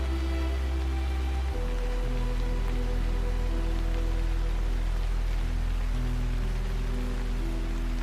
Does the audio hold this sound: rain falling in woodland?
yes